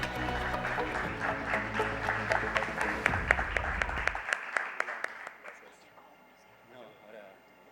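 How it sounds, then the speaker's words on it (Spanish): An audience applauds panel guests at a conference session, steady dense clapping at moderate level that tapers into a few isolated claps and fades into quiet room noise. "Un aplauso, por favor."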